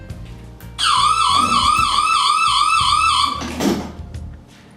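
A small warbling electronic siren, triggered by a motion sensor on a modified test setup, sounds loudly for about two and a half seconds, then cuts off abruptly and is followed by a thump.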